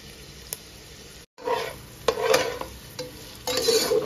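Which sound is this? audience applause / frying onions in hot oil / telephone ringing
frying onions in hot oil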